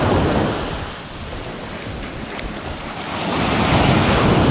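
Sea waves surge and break on the shore at Lamai, Thailand, loud and close, a continuous roaring wash mixed with heavy wind buffeting the microphone and no voices.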